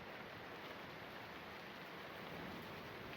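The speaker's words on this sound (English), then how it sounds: "Huge raindrops fall from the sky relentlessly." Heavy, steady rain pours down in the game Robotics;Notes Elite, a dense, continuous hiss that stays even and unbroken throughout, with no voices.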